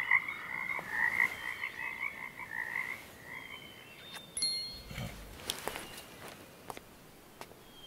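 Frogs croak in a loud trilling chorus for the first few seconds, then fade, leaving scattered clicks, rustles and a low thump against quiet background noise.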